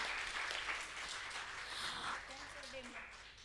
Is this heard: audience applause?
yes